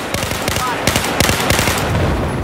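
M416 rifle gunfire in a video game, rapid automatic bursts of sharp cracks in quick succession, loud and close, continuous over the whole stretch with talk faintly underneath.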